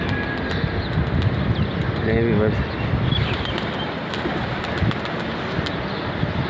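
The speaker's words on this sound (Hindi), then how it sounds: "माशाल्लाह कबूतर उड़ गए हैं।" Pigeons lift off from a rooftop, with soft cooing and a brief flutter of wings under steady wind noise, while someone talks throughout.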